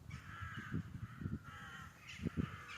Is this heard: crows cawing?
yes